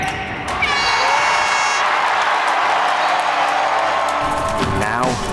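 A basketball game crowd for Dixie State cheering and applauding loudly and steadily, with whoops and a sustained roar, under a narrator's voice and music.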